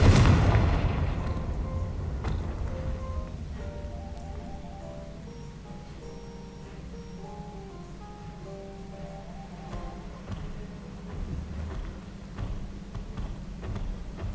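A Confringo blasting curse detonates in a Harry Potter video game: one loud, close boom at the very start that fades into a long rumbling tail, with soft game music tones running underneath.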